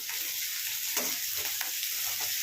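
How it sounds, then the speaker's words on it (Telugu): Chopped onions and green chillies fry in hot oil with a steady, bright sizzle and crackle, close and continuous with faint stirring touches. "ఉల్లిపాయలని పచ్చిమిర్చిని అయితే మంచిగా వేయించుకోండి"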